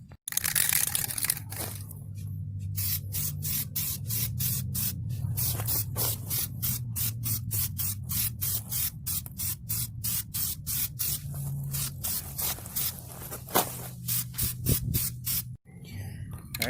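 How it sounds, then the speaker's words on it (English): Aerosol primer is sprayed onto a 2005–2006 Infiniti G35 sedan headlight in a long run of rapid, regular short bursts, loud and close, with a low hum underneath and talk now and then. "then we'll start doing our first coat with the primer"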